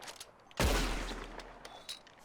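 A single sharp revolver shot cracks close by at a bottle-shooting contest in Red Dead Redemption 2, followed by a short decaying echo and a few faint clinks.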